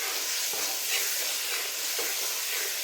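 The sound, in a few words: shrimp sautéing in spiced oil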